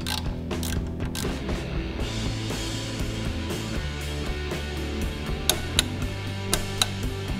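A torque wrench tightens bolts one by one on a second-generation Suzuki Swift clutch, giving a close run of ratcheting clicks and creaks with a few sharp metallic ticks near the end.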